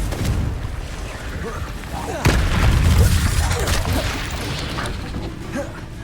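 A Confringo spell explosion in the Hogwarts Legacy video game: a sudden loud booming blast bursts in partway through, over a dense rumbling wash of battle noise and game effects.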